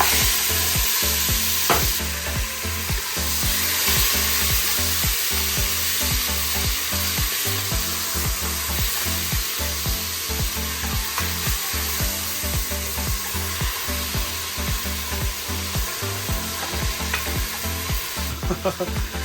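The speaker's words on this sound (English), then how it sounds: "trying to stir the pot with the other hand" Oxtail being stirred in a very hot pot on a stove, a steady sizzle and fry with repeated scraping and knocking of the spoon against the pot, continuous and close, with no voices.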